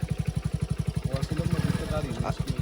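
Hero Splendor or HF Deluxe motorcycle engine starting and running, with a steady, rapid low thumping pulse throughout. Someone talks over the engine close by.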